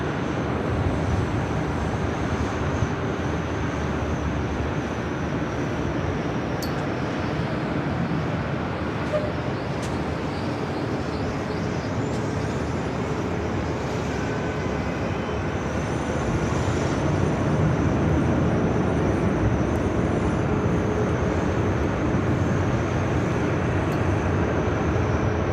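A United Airlines 737-800 from Seattle arriving at Los Angeles airport, a steady broad jet roar that holds throughout and swells slightly toward the end, heard from a distance outdoors.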